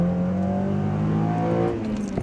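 A 9th-generation Honda Civic Si's engine revs up with a throaty aftermarket exhaust, a short loud rising drone heard from close by, then easing off.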